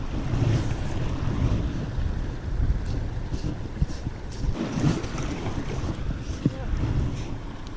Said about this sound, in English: As soon as I start casting, the wind picks up.